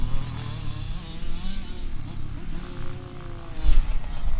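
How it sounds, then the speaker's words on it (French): A motorcycle on a race track with its throttle worked in waves, the engine note rising and falling through several pulls, loud and close, with wind and clatter mixed in. "Je veux juste que tu écoutes la quantité d'accélérateur que je donne"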